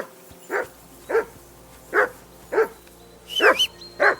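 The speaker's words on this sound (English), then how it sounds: "Henry, that barking's driving me nuts." A dog barks repeatedly in the medieval video game Kingdom Come Deliverance 2, six sharp barks at a steady rhythm, fairly close and alone without talk.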